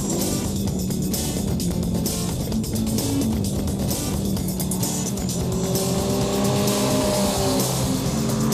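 Peugeot 206 rally cars from the 2007 Peugeot cup race along, with loud continuous engine roar, revving and tires squealing as they pass close by.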